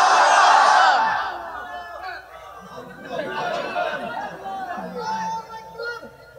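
A crowd of worshippers shouting the takbir chant together in unison, loud at first, then fading into a scattered murmur of voices and chatter.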